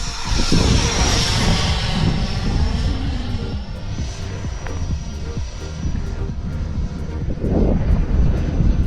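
An electric ducted fan RC F-16 model jet flies overhead with a steady, loud whooshing roar and a high whine. The sound swells slightly as it passes and continues without a break, with no speech.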